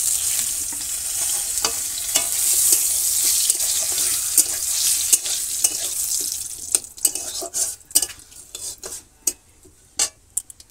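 Cumin seeds fry in hot oil for tempering dal in a village kitchen, giving a steady close sizzle that later breaks into scattered clicks and scrapes of stirring.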